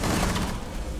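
Loud, close gunshots crackle and boom in a rough cluster during a round of Rainbow Six Siege, dense and continuous over a low rumble.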